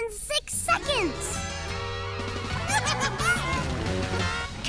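A cartoon red chicken clucks and squawks loudly in a busy, honking burst over lively music and effects, with voices from an animated show mixed in.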